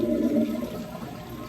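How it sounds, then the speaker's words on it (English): Sloan commercial toilet flushing, a brief loud rush of water that quickly settles into a softer steady running flow. "Water should run for a while, and it should stop once the valve body fills up."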